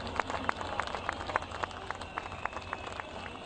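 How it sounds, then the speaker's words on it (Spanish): A crowd at a Hugo Chávez rally on Avenida Urdaneta in Caracas claps in a steady rhythm, sounding faint and distant, with a crowd murmur underneath. "Un aplauso a Diosdado Cabello, soldado y amigo y hermano y compañero."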